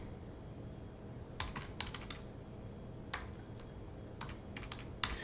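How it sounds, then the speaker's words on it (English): Bursts of computer keyboard typing come in short, quick clusters of keystrokes with pauses between them, close and clear over a quiet background hum, with no one talking. "Again, just typed, no big deal."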